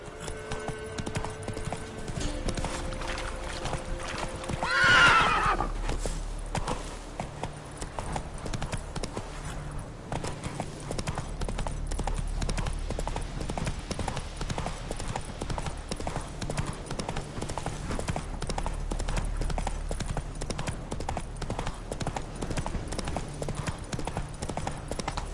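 Horse hooves clip-clopping steadily in The Witcher video game, a continuous rhythmic trot running throughout, with a brief swell of noise near the start and faint voices early on.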